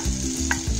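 Sabudana khichdi fries and is stirred in a pan, a continuous sizzle broken by a brief scrape of the spoon, close and fairly loud.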